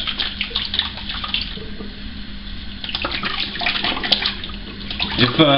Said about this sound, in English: Let this water out.